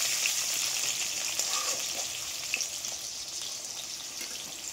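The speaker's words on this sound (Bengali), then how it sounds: "নেড়ে চেড়ে একটু ভেজে নেবো আমি লাল লাল করে।" Potato pieces being stirred and fried in hot oil give a continuous close sizzle with faint scraping and occasional small pops, steady in loudness throughout.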